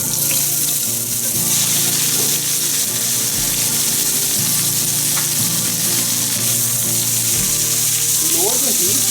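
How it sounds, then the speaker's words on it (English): Onions fry in a hot pan after fish, a loud, continuous close sizzle with a bright steady hiss throughout, occasionally shifting as the onions are moved, with no talking. "We fry the onions till golden."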